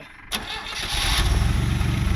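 An old car engine that had been off the road for ten years cranks and catches after a brief pause, then settles into a loud, rough, pulsing run close by.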